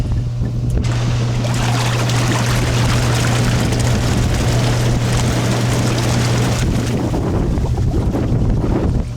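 Hot tub spa jet motors run with a loud, steady broadband rush of churning water and air, a constant low motor hum underneath, close to the microphone for the whole stretch.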